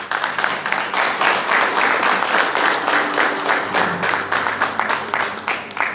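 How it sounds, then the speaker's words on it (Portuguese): A Baptist church congregation claps during a Sunday service, a full, rhythmic wave of applause that pulses steadily and stays loud throughout. "Então você pode aplaudir o Senhor."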